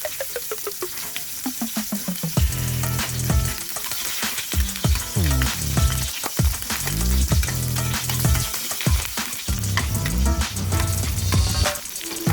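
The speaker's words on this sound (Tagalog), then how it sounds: "Pag mainit na yung mga lots, yung mantika, gigisa na natin ng bawang at sibuyas." Garlic and onion sautéing in hot oil in a home kitchen, a loud steady sizzle with bursts of stirring and scraping throughout, close and continuous, with no talking.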